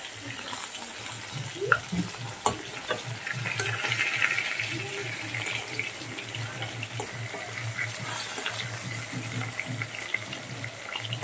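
Fish sizzling in oil in a pan, a steady soft crackle running throughout, with occasional clinks and scraping of a utensil against the pan and brief clattery knocks.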